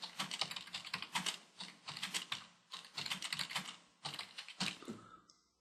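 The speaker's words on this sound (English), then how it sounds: "I'm going to type in a sentence." Typing on a computer keyboard, quick clusters of close, crisp key clicks in several bursts with short pauses between them, ending in quiet.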